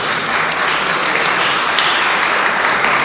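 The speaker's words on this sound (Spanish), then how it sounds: "Un fuerte aplauso a todos vosotros." A Christmas Advent gathering's audience applauds, steady clapping filling the whole moment without pause, with no talk over it.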